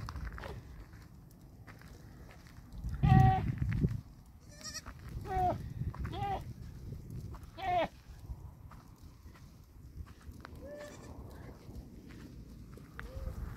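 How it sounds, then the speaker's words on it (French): A goat bleats several times outdoors among sheep, with faint footsteps and moderate distance; the calls are short, wavering cries spread across a quiet background. "Je suis en train de suivre une chèvre."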